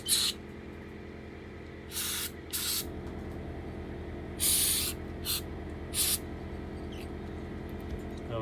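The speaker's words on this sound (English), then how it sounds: "I'm going to take each part and I'm going to spray all the spray into the orifices" Short hissing bursts of aerosol carburetor cleaner sprayed into the orifices of carburetor parts from a 1968 Johnson 9.5 HP outboard, several quick squirts followed by longer blasts, over a low steady hum with no talking.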